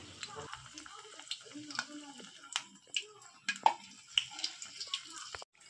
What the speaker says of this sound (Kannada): ಒಂದೊಂದೇ ದೊಡ್ಡ ಪತ್ರೆಯನ್ನು ತೆಗೆದುಕೊಂಡು ಹಿಟ್ಟಿನಲ್ಲಿ ಅದ್ದಿ ಬಾಣಲಿಗೆ ಹಾಕಿ ಕರಿದುಕೊಳ್ಳಬೇಕು